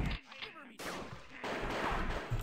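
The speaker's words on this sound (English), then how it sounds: "And the deadly dual pistols." Dual pistols fire in the Doom Sigil and Pirate Doom mod, a couple of sharp gunshot bursts heard under excited talking.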